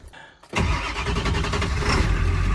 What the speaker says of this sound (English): Let's see if she starts.